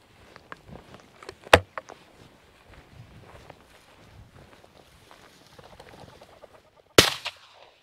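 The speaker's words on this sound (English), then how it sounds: "Nice shot." A shotgun fires during a bird hunt outdoors, two sharp loud blasts several seconds apart, the second the loudest, among faint footsteps and rustling.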